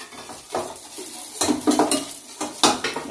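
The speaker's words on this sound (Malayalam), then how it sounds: "ഇതിപ്പോ ഞാൻ ഇളക്കും," A spoon stirs curry in a metal pan, clanking and scraping against the sides in several irregular bursts of clinks over a faint background.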